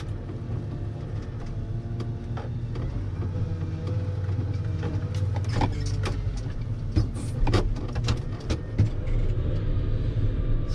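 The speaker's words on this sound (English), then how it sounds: "It's just down the street, so it's no problem taking everything with the wheel loader there." Wheel loader rolling down a street, a steady low diesel engine rumble with clanks and rattles in the second half, heard alone at moderate loudness.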